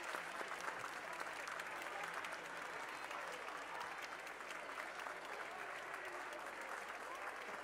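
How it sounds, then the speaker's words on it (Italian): Sustained audience applause fills a cold ice rink during an ice skating gala in Covo, steady dense clapping from a large crowd held at an even level throughout, with no pauses. "un altro applauso per i ragazzi del surf"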